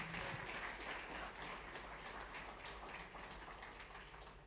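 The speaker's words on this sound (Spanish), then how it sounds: "si quiere aplaudir." Church congregation applauding during a sermon, a steady dense wash of clapping from many hands at moderate level, continuous throughout and slowly easing toward the end, with no voices over it.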